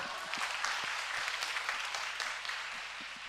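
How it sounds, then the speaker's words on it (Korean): Applause from an audience at a Korean staff competition final, a dense, continuous wash of many hands clapping together at a steady level for a few seconds. "여러분, 박수 한번 주세요."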